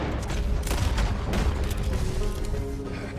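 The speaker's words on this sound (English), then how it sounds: "They're shooting at us." Gunfire crackles through a Red Dead Redemption 2 shootout, dense overlapping shots and booms in a steady, loud barrage with no voices over it.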